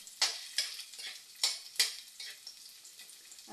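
An egg curry base is sautéed in a pan, with several sharp sizzling bursts as ingredients hit hot oil and a spatula stirs and taps, close and without talk.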